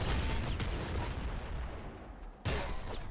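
Rapid weapon fire from the Ultra Shuttle in the video game Nuclear Throne: a dense, steady stream of shots lasting the whole clip, loud and continuous, with a fresh burst near the end and no talking.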